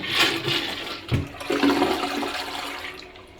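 A toilet flushes in a hotel bathroom at a TownePlace Suites in York, Pennsylvania, a loud close whoosh of rushing water that surges, then settles into a steady draining swirl.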